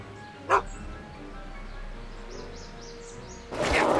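A dog barks in the Back to the Future Episode 1 video game: one sharp bark early, then a louder burst of barking at the end over a quiet ambient background.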